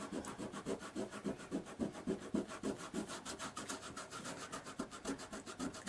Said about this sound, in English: just take a little bit of water, dampen it again with my fingers, and just start to rub now and concentrate on an area